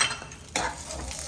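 Raisins and dates sizzle and crackle in a spoonful of melted ghee, with a soft stirring scrape and a sharper burst of frying about halfway through, close and fairly quiet.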